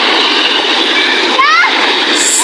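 Fresh water splashing and churning as people bathe in a roadside river, a steady rushing wash with a brief brighter splash burst midway, and voices talking over it.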